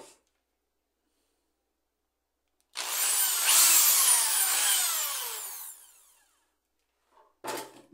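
A power drill bores a hole through a clay pot, a loud whining burst lasting about three seconds with the motor pitch rising and falling, then stopping, followed by a brief knock near the end.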